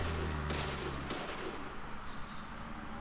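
Gunfire in the horror game Deadly Premonition: a burst of loud shots over a low rumble early on, then quieter, scattered reports fading into a dull background.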